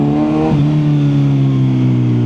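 A 2025 Kawasaki Z900 SE inline-four motorcycle engine runs loud and close with a steady, smooth drone. Its pitch lifts briefly near the start before settling into a sustained rev.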